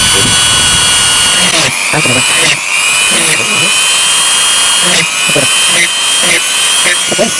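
A power drill whines steadily and loudly at close range, its pitch shifting slightly as it bores, while a person talks underneath.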